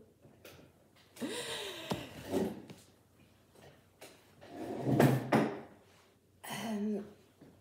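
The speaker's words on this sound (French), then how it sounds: "je vais faire un gros bruit de chaise affreux" A chair is dragged across the floor in several loud, harsh scrapes and bumps, separated by short pauses in a quiet room.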